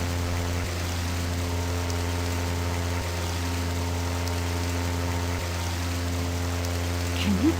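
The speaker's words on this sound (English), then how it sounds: "Not with the water running." Steady running water at a waterfall in the video game I Have No Mouth And I Must Scream, a continuous wash laid over a low, constant hum, with no talking.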